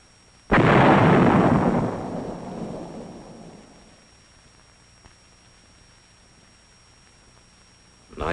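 A single heavy artillery gun blast in Korea, a sudden loud boom that rolls and decays over several seconds, followed by quiet and the start of another blast at the end.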